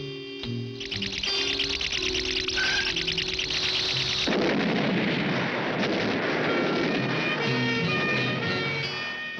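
Cartoon explosion booms from a classic Pink Panther episode, a loud sustained rumbling blast that kicks in partway through over lingering music, with no talking.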